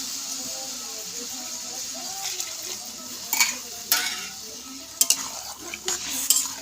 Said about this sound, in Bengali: কষানো হয়ে গেছে, এখন আমি দিয়ে দেবো এর মধ্যে জল।